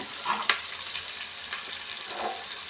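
Carrots tossed into onions frying in a pan produce a soft continuous sizzle with light stirring scrapes and an occasional tap, close up and fairly quiet.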